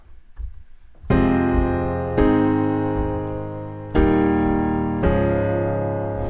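A piano plays four sustained chords, each struck firmly and left to ring and fade before the next, forming a slow repeating loop.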